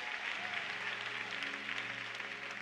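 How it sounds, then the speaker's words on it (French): A congregation at a church service applauds, a dense, faint wash of clapping from a distance, with a sustained low organ or keyboard chord droning underneath throughout. "un bel applaudissement pour ça"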